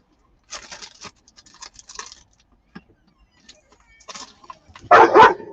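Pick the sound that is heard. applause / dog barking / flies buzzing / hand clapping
dog barking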